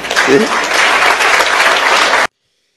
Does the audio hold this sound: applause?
yes